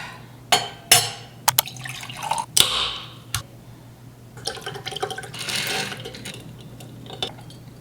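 Tart cherry juice and coffee are poured over ice into a glass, with sharp clinks of ice against glass, then a steady liquid pour and fizzing near the close, all close by and fairly quiet.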